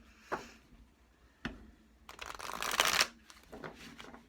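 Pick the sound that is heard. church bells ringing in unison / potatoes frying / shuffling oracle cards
shuffling oracle cards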